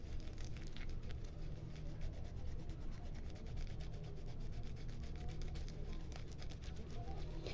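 A paste of lemon, shampoo, Colgate and turmeric is rubbed by hand over dark patches on the knee. The continuous, close, dry rubbing is steady and even throughout.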